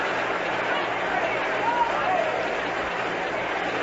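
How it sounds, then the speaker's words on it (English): A near-capacity crowd at a Sunday baseball game between the Reds and the Mets fills the park with a steady, even murmur of voices and cheering that holds throughout. "Fine crowd on hand, just about at Capacity Park."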